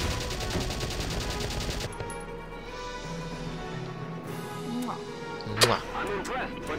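Rapid gunfire from the video game Valkyria Chronicles crackles in a dense burst for about two seconds, then gives way to quieter game ambience with a few scattered sharper sounds.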